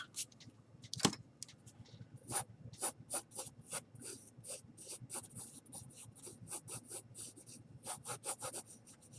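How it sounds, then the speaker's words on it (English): An eraser rubs out part of a pencil sketch on paper in quick, rhythmic back-and-forth scrubbing strokes, about two per second, soft and close, with one sharper knock near the start and no talk. "I'm going to erase some of the head."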